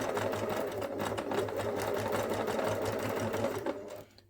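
A sewing machine stitches around the arm of a fabric memory bear, its needle chattering in a fast, steady, close rhythm that stops abruptly near the end.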